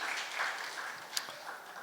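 Church congregation applauding during a Sunday service to welcome the youth group, a soft, fairly distant wash of hand claps with one sharper clap standing out, no voices on top.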